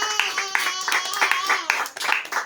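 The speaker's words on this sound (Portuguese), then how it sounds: "Bate palmas para Jesus." Church congregation clapping hands together during a Portuguese-language worship service, a dense burst of sharp claps in a fairly steady rhythm, close and lively, with voices sounding over it.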